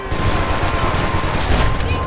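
Sustained gunfire in Max Payne 3 team deathmatch multiplayer at the Branco headquarters map: a dense, continuous burst of shots with a steady rumbling body, loud and without pause across the moment.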